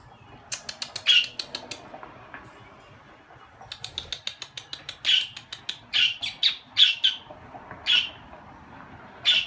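Budgies flap their wings in rapid fluttering bursts, close by, mixed with short sharp chirps and squawks that recur throughout.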